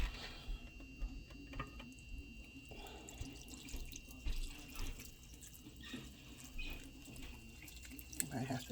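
Water runs steadily from a kitchen tap while oats are being prepared for baking, a continuous soft splashing stream with faint background voices.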